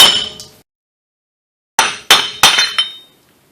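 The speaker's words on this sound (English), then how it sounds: "I'm going to hammer this thing out of here." Sharp metallic strikes of a hammer knocking a rusted wheel bearing part out of a 1998-2001 Ford Ranger 4x4: one hit, a pause, then four quick ringing blows in succession, close and loud.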